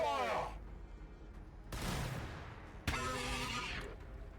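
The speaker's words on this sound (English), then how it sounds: "Let's see how the Venom Throw fares against Fragstorm Grenade Launcher" Fragstorm Grenade Launcher fire in the Warhammer 40,000: Battlesector video game: two loud broadband blasts of explosive gunfire, each swelling and trailing off, mixed with in-game voices.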